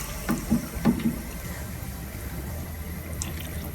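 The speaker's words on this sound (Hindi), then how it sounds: "पानी इसमें डाल देंगे।" Water poured into a pot of cooking chana daal, a soft splashing and gurgling pour with a few small plops early on, then a quieter steady liquid sound, fairly faint overall.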